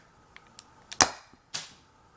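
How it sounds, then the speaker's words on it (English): A homemade gas-powered BB sniper rifle firing, with a few light clicks before one sharp, loud crack and then a second bright burst half a second later, close and alone. "Quick little bleep of gas I found works the best. Then really quickly push the plunger forward. And here we go, firing."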